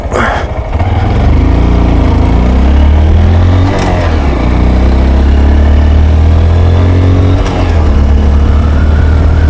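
A 2015 Honda Grom motorcycle engine while riding, a loud, close, buzzing single-cylinder drone that rises and falls with throttle, revs dipping around shifts.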